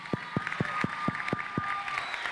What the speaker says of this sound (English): let's give Courtney a big round of applause